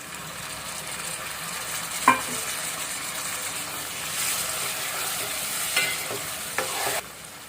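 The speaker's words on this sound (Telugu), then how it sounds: "ఆనియన్స్ వేగిన తర్వాత ఒక 2 టమాటోల్ని కట్ చేసి వేసుకుంటున్నాం" Chopped tomatoes go into a pan of frying onions and are stirred, giving a continuous hissing sizzle with occasional spoon clinks and scrapes that swell and fade.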